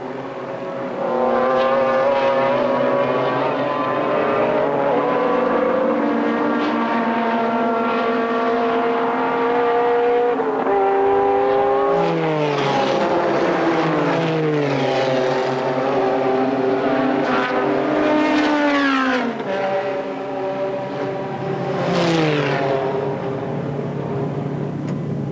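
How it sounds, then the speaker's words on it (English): McLaren F1 GTR race cars and a field of about 38 cars roar off together at a green-light rolling start, with layered engine notes rising and overlapping loudly as cars accelerate and pass, no talking. "At the green light, all the cars go at once"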